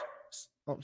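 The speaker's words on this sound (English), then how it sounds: "excuse my dog" A dog at home gives a couple of brief, fairly faint barks, with a person's speech around them.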